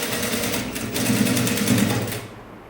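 A sewing machine stitches fabric for a sleeveless top, humming steadily and close up with no pause for nearly three seconds before it cuts off.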